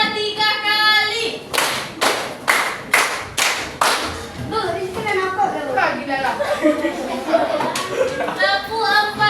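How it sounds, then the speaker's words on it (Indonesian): Schoolchildren in a classroom guidance session clap their hands in sharp counted sets, several crisp group claps spaced evenly, followed by looser clapping and children's voices chattering. "Tepuk dua 3 kali."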